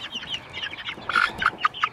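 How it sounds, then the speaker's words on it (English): Clucking from a friendly farm chicken, a run of short, close, moderately loud clucks that grow stronger in the second half, with no talk over them. "You seem like a friendly chicken."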